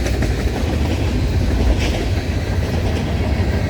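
A CSX freight train rolls past close by, a loud continuous rumble and rattle of cars and wheels over the rails.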